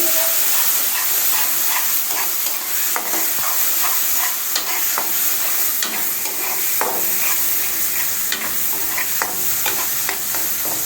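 Spices with chopped garlic, tomato and turmeric paste frying for a fish curry, a loud continuous sizzle and hiss close up, broken by repeated scraping and stirring clicks of a utensil in the pan.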